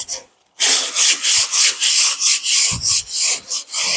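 A hand scraper rasps back and forth over dried paint ridges left by a brush, a loud close rhythmic scraping in steady strokes of about a third of a second, with a few dull knocks between.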